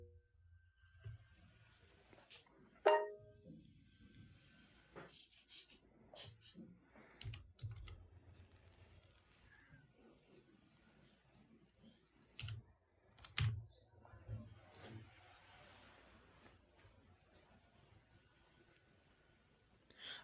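Keys clatter on a computer keyboard as a verification code is typed, sparse clicks and short bursts of keystrokes scattered across a quiet room, close and fairly soft, with no speech.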